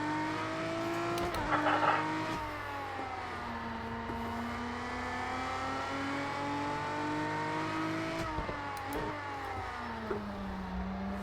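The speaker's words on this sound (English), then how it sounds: "They're a cool, fun little race car." Race car engine in the video game Project Cars 2, a steady near drone that rises and falls in pitch as it revs through gears, with brief shifts and a louder surge near the start, no talking.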